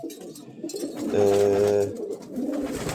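A domestic pigeon gives a low, throaty coo in the middle, with softer cooing and rustling from other pigeons around it in an enclosed loft.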